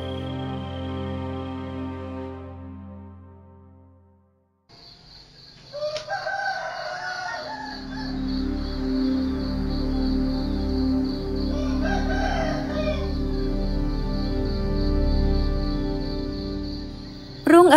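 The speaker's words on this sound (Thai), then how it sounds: "เสียงไก่ขัน" Roosters crow in a hillside village at dawn above terraced rice fields, long drawn-out calls rising and falling, several birds overlapping at moderate distance over a steady outdoor background.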